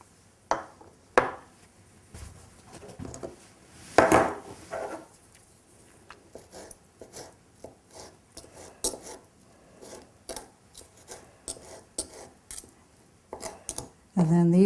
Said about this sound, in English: so I remove the liver and the heart. Those are the 2 parts that I use. And chop those up